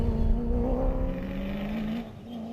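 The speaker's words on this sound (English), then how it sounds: "Henny de Klerk and Johan Smallberger in their Treasury 1 BMW X3, enjoying a clean run." A Treasury 1 BMW X3 rally car on a clean run at the Nkomazi 450 cross-country rally, its engine droning steadily and loudly with a sustained tone that dips slightly near the end.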